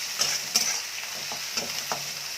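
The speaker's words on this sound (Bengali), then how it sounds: "পেঁয়াজটাকে ভালো করে ভাজা করে নেব।" Chopped onion fries in oil in a kadai with a constant bright sizzle, and a spatula stirs it in several distinct scraping clinks, close up with no voices.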